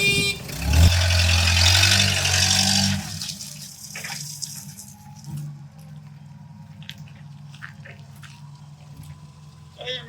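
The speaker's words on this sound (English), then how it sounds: "Tire machine engaging." A tire changing machine engages with a loud, close mechanical whir and hum that runs for a few seconds, then drops to a lower steady drone with faint clicks and knocks.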